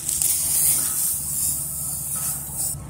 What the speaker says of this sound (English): Then the last step is to spray all your honeysuckle stumps.